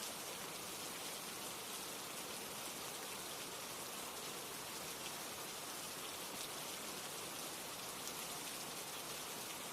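Steady, even rain falls on surfaces in a soft, continuous hiss, with no other sounds and no voices, heard at low volume as a nighttime ambience.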